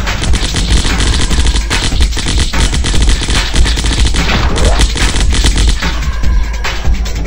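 An assault rifle fires nonstop in the zombie shooter game Zombocalypse, a loud dense burst of rapid gunshots that runs through the whole stretch without a break.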